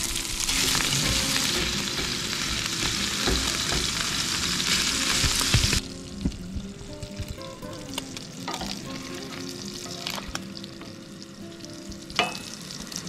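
Bacon pieces sizzling in a pan at a campsite along a river, a loud close crackle that drops off suddenly midway, leaving quieter sputters and a few utensil clinks.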